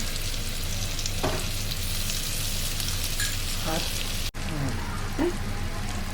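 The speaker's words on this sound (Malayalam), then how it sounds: "ഇനി ഇതൊന്ന് എണ്ണയിൽ നമുക്കൊന്ന് ചൂടായി എടുക്കാം" A paste of chili and turmeric powder sizzles hard in hot oil for a Kottayam-style fish curry, a loud continuous hiss with a few stirring scrapes and a brief clatter near the end.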